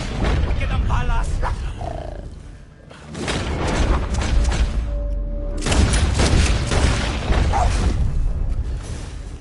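Puma roars and snarls amid gunfire in the western video game Red Dead Redemption 2, loud and close, with heavy booming bursts, and someone shouting in Spanish over the chaos.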